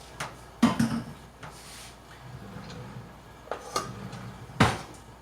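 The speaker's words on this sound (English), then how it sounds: "1/2 cup of lard can now go into the flour mix." Half a cup of lard dropping into a bowl of flour mix while making basic white bread, heard as a few soft knocks and clatters of bowl and utensil spread across a quiet kitchen, with no talk.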